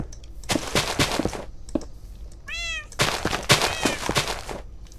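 House cats meow loudly and close by in several long, drawn-out calls, one rising and falling sharply, amid rustling and clattering household noise.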